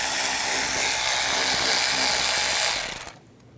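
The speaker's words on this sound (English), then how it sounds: "Using a 10mm socket, take this bolt out." Power tool whine from a ratchet driving a 10mm socket to remove an engine bolt on a 2013-2016 Dodge Dart: a steady, loud, high-pitched mechanical spin that holds for about three seconds, then stops abruptly.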